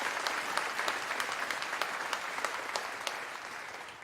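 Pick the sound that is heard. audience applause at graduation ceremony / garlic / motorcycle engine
audience applause at graduation ceremony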